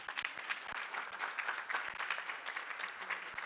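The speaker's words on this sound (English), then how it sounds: "Please give her a round of applause." An audience applauds at a Black Wall Street event as a pastor is welcomed up, a steady, moderately faint wash of many hands clapping for a few seconds.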